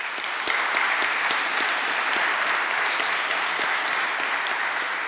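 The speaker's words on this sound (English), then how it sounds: "but we congratulate him, so we'll give him a clap" A university commencement audience applauding, dense continuous clapping from many hands filling a large hall at an even level throughout, no voices.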